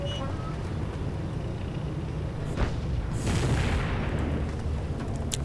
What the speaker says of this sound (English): Panzer command under fire from the 17-pounder gun mounted on the Firefly